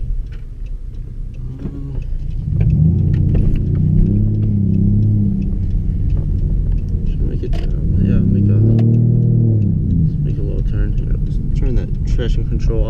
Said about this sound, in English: It sounds like a good, nice V8, but it's a V6 obviously